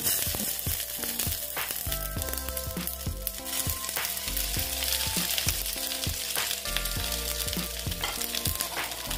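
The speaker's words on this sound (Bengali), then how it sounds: "এই দিকটা ভেজে নিচ্ছি, তারপরে আবার এই দিকটা ভাজবো।" A semolina snack fries in a pan with a continuous bright sizzle of hot oil. Regular scraping and stirring knocks from a utensil against the pan punctuate the sizzle, close and fairly loud throughout.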